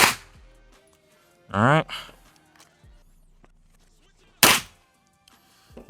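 Two loud, sharp unsuppressed gunshots from a pistol-caliber carbine, spaced a few seconds apart at an outdoor range, with someone briefly speaking between them.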